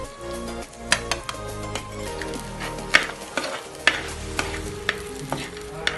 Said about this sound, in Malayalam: മസാല ഇട്ട് കഴിഞ്ഞിട്ട് നല്ലോണം ഒന്ന് വഴറ്റി കൊടുക്കണം